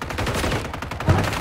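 Rapid automatic gunfire in a first-person shooter game, loud bursts of close shots in quick succession with no pause.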